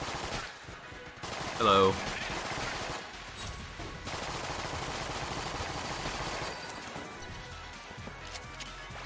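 Gunfire from a gun in the video game Enter the Gungeon, rapid loud bursts of shots with a louder blast near the start, over game noise and a brief spoken voice.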